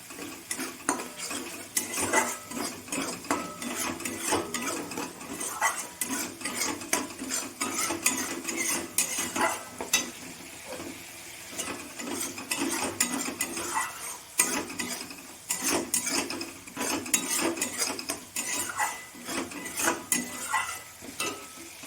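Spice paste sizzles and is stirred steadily in a pan, with a spatula scraping and clinking against the metal throughout. It is being cooked for a Bengali bata fish curry with eggplant, made without onion or garlic.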